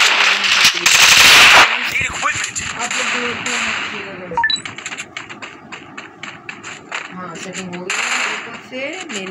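Rapid gunfire from a weapon in a video game, loud bursts of sharp shots, strongest near the start and then in scattered volleys, with someone talking over much of it.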